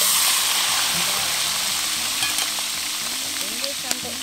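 Chicken pieces deep-frying in hot oil, a dense, loud, continuous sizzle and crackle close by, with a few clinks of utensils and no talk.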